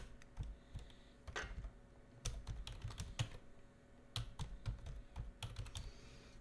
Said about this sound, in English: So I can type engineer.